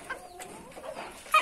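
A Belgian porcelain bantam hen clucks in a few short, soft bursts close by.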